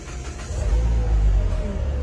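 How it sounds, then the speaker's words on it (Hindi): A 2016 Mr Beshe car engine cranks and catches, settling into a steady low idle rumble that runs continuously and fairly loud after a brief start-up rise, with no talking. "गाड़ी को स्टार्ट करते हैं"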